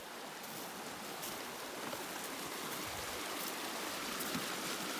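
Etherington Creek rushing steadily near a footbridge along a backcountry hiking trail, a continuous broadband wash of flowing water, close and even throughout with no voices.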